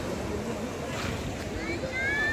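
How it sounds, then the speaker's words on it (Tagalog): Choppy, rough sea churned up after a typhoon, heard as a steady broadband wash of waves and wind buffeting close to the microphone, with faint voices and a thin tonal whine near the end. "galing lang natin sa bagyo kaya talagang maalon yung dagat"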